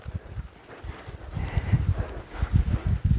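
Muffled hoofbeats of a horse walking at a steady rhythmic pace, close by, growing slightly louder and quicker toward the end.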